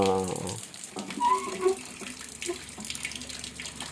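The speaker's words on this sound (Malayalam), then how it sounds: "ഈ കുളത്തിൽ നിന്നുള്ള വെള്ളം ഇങ്ങോട്ടും പോകുന്നുണ്ടല്ലേ?" Water from a fish-farming pond trickles and splashes steadily, like a small stream pouring, with a brief tonal sound at the start.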